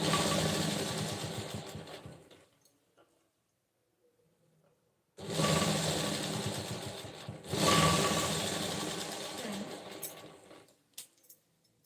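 Sewing machine stitching pink piping onto a blouse, running in two bursts of steady close whirring with a quiet pause between them and a few small clicks near the end.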